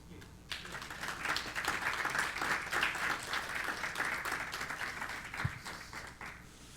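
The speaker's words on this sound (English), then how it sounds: "The round of applause for Paul." An audience applauds Paul after a church sermon, a sustained burst of many hands clapping that starts abruptly and holds steady before tapering, with a brief voice underneath.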